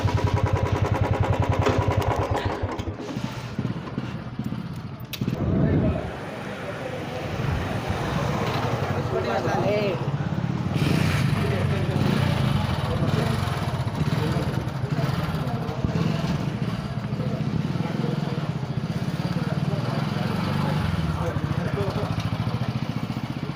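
A vehicle engine runs steadily while driving on a trip to Kanakapura, a loud continuous rumble with a brief dip partway through and muffled voices at times.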